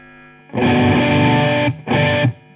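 Heavily distorted electric guitar chords ring out loud through a Blackstar Dept. 10 AMPED 2 amp, one long sustained strum followed by a shorter second hit.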